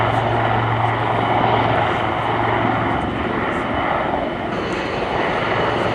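A pair of Royal Navy Wildcat helicopters hover low at an air show, making a loud, continuous rotor and turbine roar that stays steady and powerful throughout.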